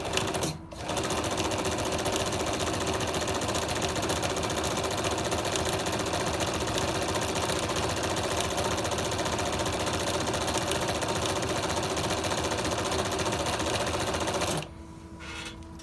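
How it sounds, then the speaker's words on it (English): A Singer 112-4 zig zag sewing machine stitching two pieces of material, a loud steady mechanical whir with fast, even needle chatter that runs unbroken for about fourteen seconds before stopping abruptly. "As you can see, I'm going to run it now."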